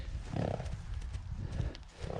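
A Percheron draft stallion in Ukraine makes low, breathy snorts and rumbling exhalations close by, coming in a few uneven bursts against soft background noise.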